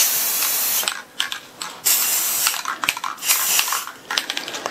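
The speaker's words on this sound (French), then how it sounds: "Un peu de spray pour éclaircir certaines zones, deux zones exactement, léger spray blanc." Light white spray paint is sprayed onto a canvas during an abstract painting session, heard as a series of close, hissing aerosol bursts of varying length with short pauses between them.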